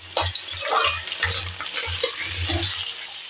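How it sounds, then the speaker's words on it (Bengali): Potatoes fry over a high flame in a pan, a loud crackling sizzle broken by repeated stirring scrapes at an irregular rhythm. "আমি আলুগুলোকে হাই ফ্লেম করে ভাজা করে নিয়েছি।"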